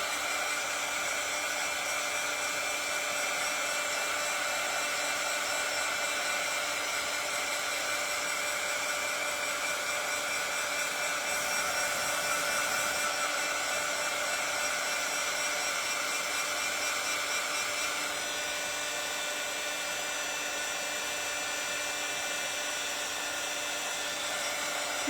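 A hair dryer runs steadily and close by, drying a small handmade art craft piece meant as a magnet, with a constant whirring blow that barely changes for the whole stretch and no talking.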